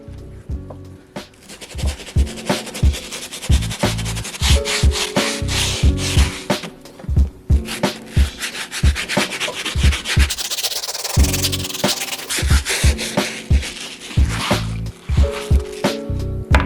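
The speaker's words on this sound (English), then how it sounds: "I'm going to be using a hard bristle brush to do the job." Hard bristle brush scrubbing the rubber soles of Nike Air Force 1 sneakers during cleaning, loud close rhythmic back-and-forth scrubbing strokes with wet, squishy texture, repeating steadily with brief pauses.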